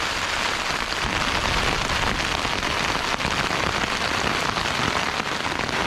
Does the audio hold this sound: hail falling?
yes